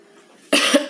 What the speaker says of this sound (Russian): а то вот я начинаю кашлять